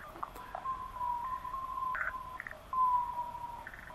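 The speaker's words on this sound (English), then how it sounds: "the common noctule that we are hearing now" Clicky, chirping common noctule bat calls rendered through a bat detector as a steady tonal warble with pulsing breaks, fairly clear against a soft hiss.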